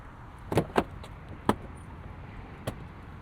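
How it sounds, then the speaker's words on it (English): Soft-close door on a 2024 Porsche Cayenne Turbo Coupe pulling shut, a few muted clunks and latch thuds close by, spaced apart over a quiet background with no talking. "Forgot to mention, it has soft closed doors as well."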